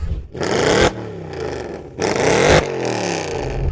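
A Mercedes-AMG C63 S Performance with an engine of over 6 litres revs loudly in two hard bursts, each dropping back to a rumbling idle, with no voices.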